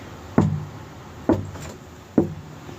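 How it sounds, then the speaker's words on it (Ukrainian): Three separate knocks on a door at night, spaced about a second apart, each a sharp, fairly close rap with a short resonant thud, against a quiet room. "і раптом стукіт у двері"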